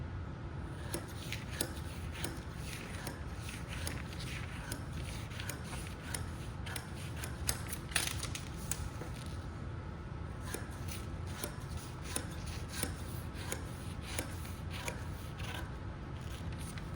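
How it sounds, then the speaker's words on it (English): Scissors snip through fabric along a dress pattern, trimming off the seam allowance, a steady run of small, close clicks and scrapes over a constant background hiss, with no talking. "Here I'm cutting the seam allowance out so you guys don't get confused."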